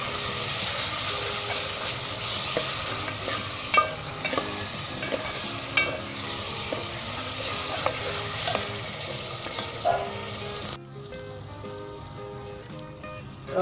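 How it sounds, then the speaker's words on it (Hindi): Chicken with tomatoes and green chilies frying in a pan for a Punjabi-style Lahori murgh chhole: a steady close sizzle with scattered clicks and pops from stirring, which quiets abruptly near the end. "अब इसे अच्छे तरीके से 5 मिनट तक आपने भूनना है।"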